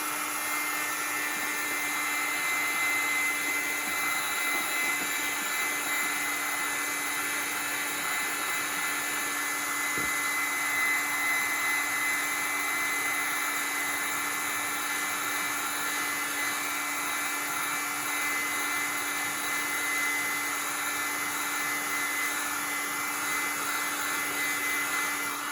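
A craft heat tool blows continuously while heat-setting colour on Rolodex cards, giving a steady whirring hiss with a constant hum that runs unchanged throughout at moderate loudness.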